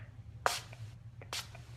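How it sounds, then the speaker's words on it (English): Two short hissing bursts of 10 Years Younger finishing spray sound close by as it is misted onto a makeup surface, each spritz about a quarter second long and separated by a brief pause. "I'm going to spray it with our 10 Years Younger finishing spray right here."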